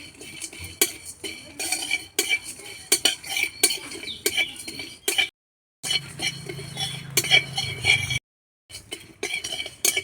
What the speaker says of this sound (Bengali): কড়াই দিয়ে এবার ভেজে নেব।